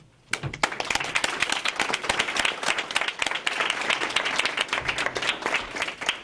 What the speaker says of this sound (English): I would like to ask all of you to join me in applauding all the candidates running for mayor.